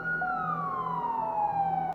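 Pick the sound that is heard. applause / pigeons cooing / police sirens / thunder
police sirens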